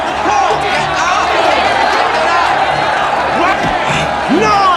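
A crowd at a boxing match roars and cheers loudly and continuously. Whoops and shouts rise above the dense noise, and voices call out through it.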